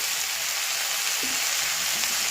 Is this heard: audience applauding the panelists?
no